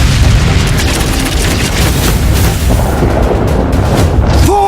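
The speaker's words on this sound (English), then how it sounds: "Railguns, fire!" Railgun broadside volleys from warships in the Battlefleet Gothic: Armada space strategy game, a continuous loud rumbling barrage of booming blasts filling the whole stretch, with no voices.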